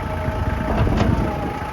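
A Kubota GL29 tractor engine idles at close range with a low, even rumble, holding a constant tone throughout as its hydraulics lift the tractor.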